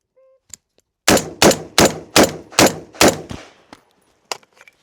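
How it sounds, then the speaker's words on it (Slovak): Six rapid, evenly spaced gunshots from a Grandpower R308 rifle in .308 Win, loud and close, each cracking sharply with a short decaying tail, followed by faint clicks. "vypálime 6 rán najrýchlejšie ako budem vedieť"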